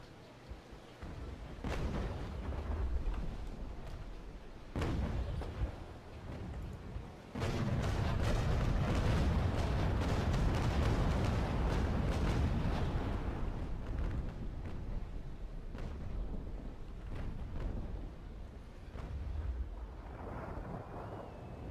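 Naval Action sailing-ship cannons fire in heavy booming broadsides, with several distant thuds early and then a long, dense rolling barrage that fades toward the end.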